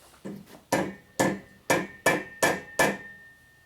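A hammer strikes metal seven times in a steady rhythm, each blow sharp and ringing, close by with no talking.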